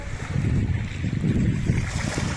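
Sea waves wash onto a beach in a continuous loud low rumble and surge, a steady churning roar of surf with no break and no voices.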